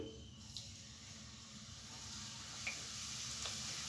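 Coconut gujiya fry in hot oil over a medium flame, giving a quiet, steady sizzle and hiss with a few faint crackles and pops, with no one talking.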